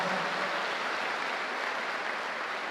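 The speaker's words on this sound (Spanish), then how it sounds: "Dale ese aplauso al Señor." Church congregation clapping during a sermon, a dense, even wash of applause that is fairly faint and steady from start to finish, with no talk over it.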